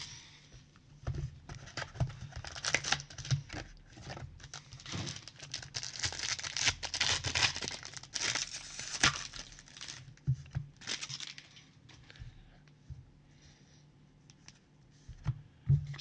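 Trading card packs from a 2020/21 Panini Obsidian basketball box being torn open and handled, with steady crinkling foil and tearing rustles up close, easing into softer occasional clicks and shuffles toward the end.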